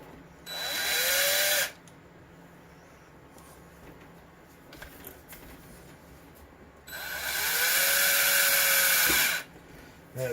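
A power tool whirs in two bursts, one short and one longer, each spinning up to a steady high whine as it drives a screw into the lower links of an Axial SMT10 radio-control truck, with quiet handling noises between.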